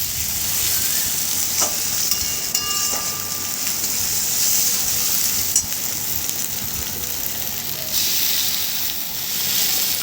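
Loud, continuous sizzling of chopped tomatoes frying in oil with ginger garlic paste in a pan, with occasional scraping and stirring, close up.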